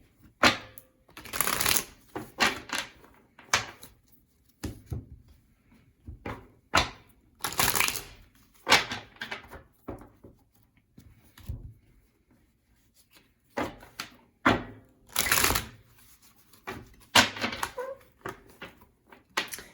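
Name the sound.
shuffling tarot and oracle cards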